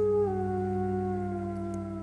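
Wolves howl in a long, sustained chorus of wavering, sliding tones that drift slightly downward, steady and fairly loud with no talk over them.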